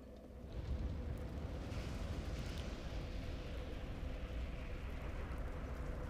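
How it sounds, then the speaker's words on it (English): A huge fire roaring up as the Lordvessel ignites in Dark Souls, a deep rumbling whoosh that swells after a short quiet start and then holds as a steady, dense roar with no voices. "The vessel immediately lit up in an incredibly powerful and bright fire"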